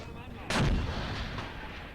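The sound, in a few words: artillery fire in video game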